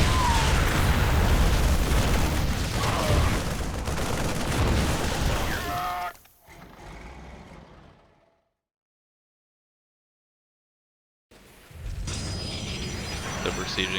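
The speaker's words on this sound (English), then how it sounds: "Drop the Immortals on the high ground to take out that siege tank." StarCraft II match with Immortals dropped on high ground attacking a siege tank: dense booms and gunfire-like blasts for several seconds, then sparse fading sounds, a stretch of silence, and battle noise returning at the end.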